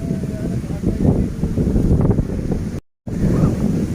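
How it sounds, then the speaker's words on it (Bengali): Steady wind buffeting an outdoor microphone in a breezy riverside park at Diamond Harbour, a continuous loud rumbling roar with a brief dropout near the end. "আর দারুণ একদম হাওয়া চলছে"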